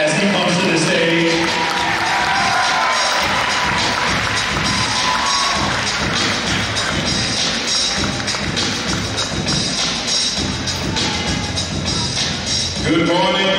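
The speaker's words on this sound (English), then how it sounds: "can we give our mayor of the city of Savannah a round of applause as he comes to the stage?" A large crowd at a Savannah Decision Day event cheers and applauds as the city's mayor comes to the stage, loud sustained cheering with shouts and clapping filling the space for over ten seconds.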